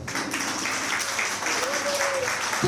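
Loud, steady applause from an audience at a live evening event honouring Padamshri Puran Chand Wadali, a dense wash of clapping that holds at an even level throughout, with some voice mixed in.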